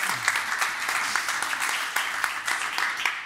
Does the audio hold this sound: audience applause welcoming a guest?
yes